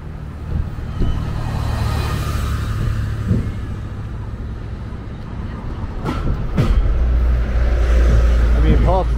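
Steady night traffic rumble on a busy Brisbane bridge, with vehicles passing close by, a heavier low drone building toward the end and faint voices in the background.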